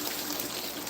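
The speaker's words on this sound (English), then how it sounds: "I have to take some water off of this or it's going to overflow." Water is poured off a full pot in a home kitchen to keep it from overflowing, a steady, close, hissing pour lasting under a second with no talking.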